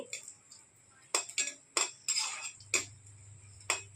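Cashews and raisins roast in a pan for tomato sweet pachadi, with a metal spoon scraping and clinking against the pan in sharp, irregular taps close by.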